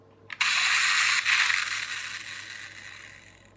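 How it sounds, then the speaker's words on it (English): The two-stage pullback motor of a toy Ferrari Superamerica whirs loudly and close after release, a dense ratcheting buzz that shifts after about a second, then fades steadily over the next few seconds. "it seems to have a two-stage motor. When you release it, it starts off fairly slowly, and then it suddenly sort of changes gear and goes faster."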